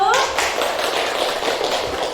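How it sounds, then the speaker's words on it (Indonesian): Classroom of pupils clapping together for a student group at a school lesson, a dense, steady patter of many hands close by that fills the whole moment, with a brief voice at the very start. "Oke, kita beri tepuk tangan dulu untuk kelompok 1."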